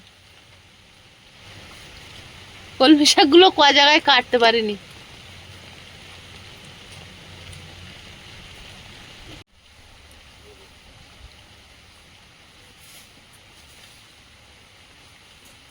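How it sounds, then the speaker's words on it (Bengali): Monsoon rain falls outdoors beside a garden, a soft, steady hiss that runs throughout. Someone speaks briefly near the start, then only the rain remains, dipping slightly partway through. "এ যা বৃষ্টি শুরু হয়েছে থামবে কি না জানি না"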